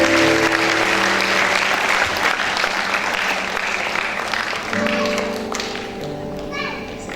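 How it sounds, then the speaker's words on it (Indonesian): A crowd claps enthusiastically, dense applause filling the room and gradually tapering off toward the end. "Oke, berikan tepuk tangan sekali lagi."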